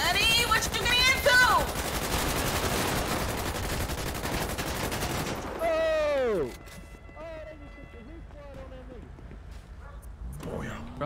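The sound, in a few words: gunfire from video game GTA 5 RP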